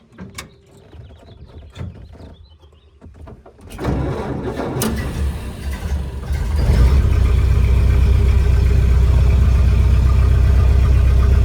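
A 1931 Ford Model A pickup engine cranks and catches after a few quiet clicks, then settles into a loud, steady idle close by, its low rumble filling the rest of the clip.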